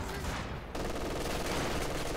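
Machine gun firing incendiary rounds in the World War II strategy game Company of Heroes 2, a dense continuous rattle of bursts, loud and unbroken, with no talk over it.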